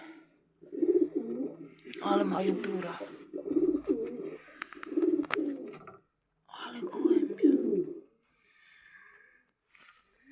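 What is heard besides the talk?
pigeons cooing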